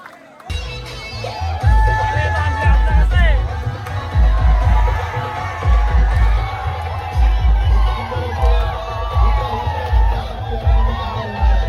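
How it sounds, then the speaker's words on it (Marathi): A large outdoor crowd roars, cheers and whoops for a Govinda human-pyramid team saluting from its sixth tier at a Dahi Handi festival in Vasind, a loud sustained swell of voices and shouting with busy low rumble throughout. "जोरदार टाळ्या होत्या गोविंदासाठी."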